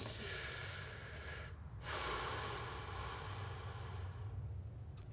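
A voice imitates a creature's deep, snore-like breathing, a continuous rough, rasping exhale broken by one brief pause, loud and close with no other talk.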